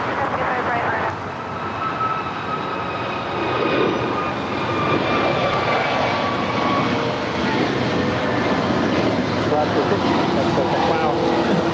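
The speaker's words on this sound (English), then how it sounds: "That was Alaska Flight 6 departing to Washington National, a 4-year-old Airbus A321neo." A four-year-old Alaska Airlines Airbus A321neo takes off from LAX, a continuous loud engine roar with whining tones held steady throughout.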